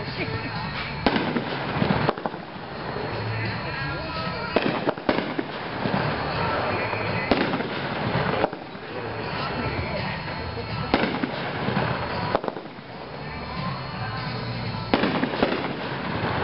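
A Brothers Rocktacular 12-shot firework cake fires in a steady sequence of loud booming bursts with crackling between them, shot after shot at regular intervals, while a voice talks over the display.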